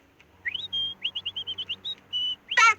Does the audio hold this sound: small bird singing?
yes